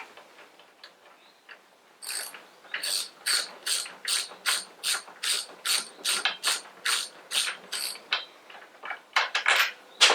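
Allen key undoing the silencer bolts on a motorcycle fitted with Norman Hyde pipes, a close, sharp ratcheting clatter repeating in quick even bursts, with a few faint clicks before it starts.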